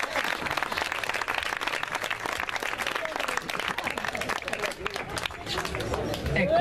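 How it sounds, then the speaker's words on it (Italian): Applause and crowd noise from the audience at a synchronized swimming dance show in Rimini, a fairly quiet, steady patter of clapping mixed with murmuring chatter, swelling slightly toward the end. "Lo so che ci vuole coraggio a fargli l'applauso"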